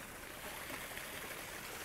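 Garden water feature in a landscape built to resemble an ancient ruin, giving a steady, soft wash of flowing water that stays constant and gentle throughout, with no voices.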